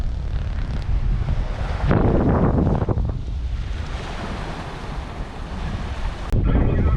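Long, lively sandy beach with surf rolling in and strong wind buffeting the microphone, a continuous loud roar with swelling wave surges.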